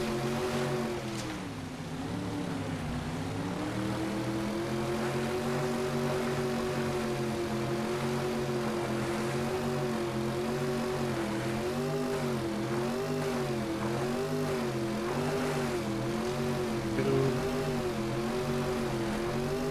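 Helicopter in Saints Row 2 flying steadily, a continuous loud rotor-and-engine drone with wavering harmonic pitch sustained for about twenty seconds, no voices over it.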